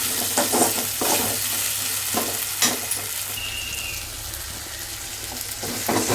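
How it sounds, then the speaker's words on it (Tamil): Tomatoes, onions and green chilies sautéing in a pan for a stingray curry, a steady close sizzle broken by scraping spatula strokes and clinks against the pan, no talking. "இப்போ தக்காளி நல்லா வதங்கி வந்துடுச்சு இன்னும் கொஞ்சம் நல்லா வதங்கட்டும்"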